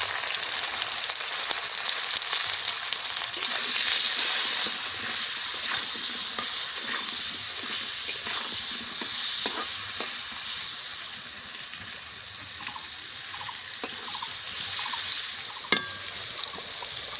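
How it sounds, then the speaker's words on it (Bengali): Pointed gourd (potol) pieces fry in a pan of hot oil, giving a steady, close sizzling hiss that runs the whole length with occasional stirring scrapes and spatters and no talking. "দেখো পটলটা আমার ভাজা হয়ে গেল এইবার উঠায় রাখবো"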